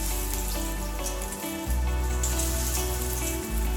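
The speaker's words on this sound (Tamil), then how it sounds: "இப்போ இதை பொரிச்சு எடுத்துடலாம்." Veg cheese balls frying in hot oil, a dense continuous crackle and bubbling over a low steady hum, close and moderately loud.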